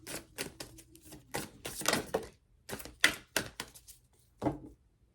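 Oracle of the Seven Energies card deck being shuffled by hand, a run of crisp, close riffling and tapping bursts of cards, fairly quiet and irregular, with brief pauses between strokes.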